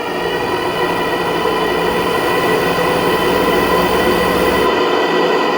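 A large live steam RC locomotive, a JRS 20, accelerating with a steady, loud, continuous mechanical rumble and hiss that carries unbroken throughout, with no voices.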